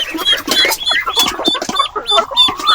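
Pekin ducks in a pen, kept for breeding, giving busy overlapping quacks and calls close by with no talk.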